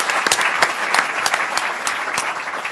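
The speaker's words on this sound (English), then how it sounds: "Let's give him a round of applause for his great stewardship." Applause from an audience at a public event announcement by a governor with local elected officials: steady, dense clapping from a sizable indoor crowd, close and fairly loud, continuing evenly throughout with no speech over it.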